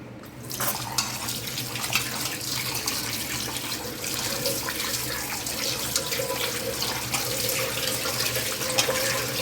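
Minced mutton is rinsed under a running kitchen tap, a steady, close, continuous rush of water splashing into a vessel that holds at an even level throughout with no talk.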